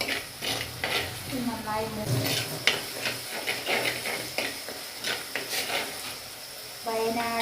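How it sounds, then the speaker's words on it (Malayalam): Ingredients sautéing in a pan for Wayanad fish curry: soft sizzling and stirring scrapes, with a spoken word over the cooking noise. "ഇതിട്ട് കൊടുത്തിട്ട് നന്നായിട്ടൊന്ന് വഴറ്റി വരുമ്പോൾ"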